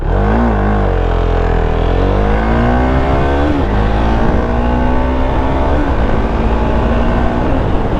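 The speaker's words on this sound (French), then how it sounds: "Regardez-moi un petit peu le son du pot à cras." Husqvarna Vitpilen 701 A2 motorcycle exhaust accelerating hard, a loud close single-cylinder engine note climbing steadily through the gears with brief dips at each shift, no talk over it.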